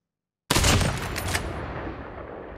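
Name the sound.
gunfire in the video game Call of Duty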